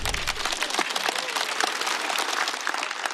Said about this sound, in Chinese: 再次掌声送给史岩